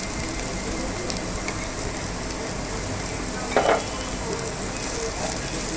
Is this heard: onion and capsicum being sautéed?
yes